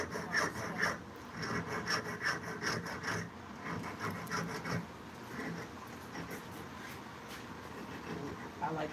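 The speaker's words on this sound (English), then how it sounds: "You just want to keep filing it." A metal file rasps back and forth across a half-round sterling silver ring band in steady repeated strokes, close and moderately loud, with brief speech overlapping at times.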